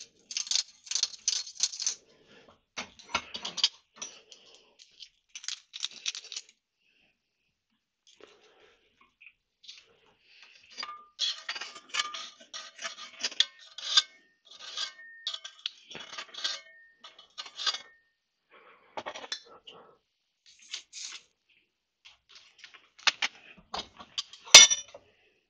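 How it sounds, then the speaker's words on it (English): A BSA B50 Gold Star motorcycle's rear reflector part is deburred by hand, giving scattered short scraping and metallic clinking bursts with quiet gaps between them, close by. "Just deburr"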